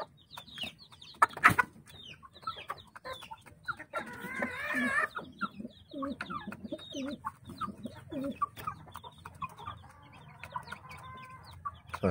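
Chickens cluck and coo repeatedly at close range while feeding, with scattered pecking taps and a sharp knock early on.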